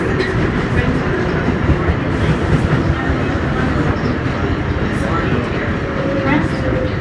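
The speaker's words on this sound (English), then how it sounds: "This is a Manhattan-bound 7 local train." A Manhattan-bound 7 local subway train rumbles steadily through Queens, producing a loud, continuous roar of wheels and car noise with faint clatter and no speech.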